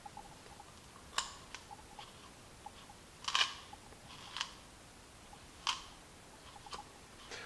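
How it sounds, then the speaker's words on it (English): Scissors snipping hair and fibers wound around the brush of a Roomba i7 robot vacuum: a handful of faint, crisp clicks and snips spaced irregularly over a quiet background. "Grab scissors, just cut the fibers."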